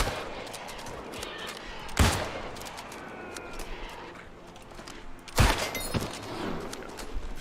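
Gunfire in the New World video game, two sharp, loud shots a few seconds apart, each followed by a burst of clattering effects over a busy game soundscape.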